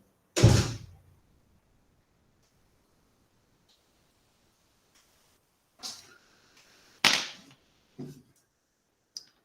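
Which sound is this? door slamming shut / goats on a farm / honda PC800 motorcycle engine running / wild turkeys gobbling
door slamming shut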